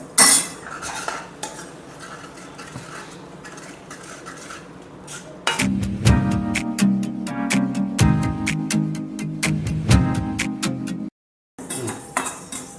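Spice mix for dal makhani dry-roasting in a pan with a spoon or spatula scraping and clinking against the metal, soft at first, then a steady run of loud, rhythmic metallic scrapes and taps, with a brief pause near the end.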